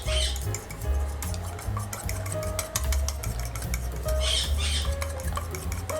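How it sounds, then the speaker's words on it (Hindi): Egg whisked in a bowl for coating aloo tikki, giving a steady, continuous rapid clicking and scraping that runs the whole time over light background music. "एक अदर अंडे को हम अच्छी तरह से फेंट लेंगे।"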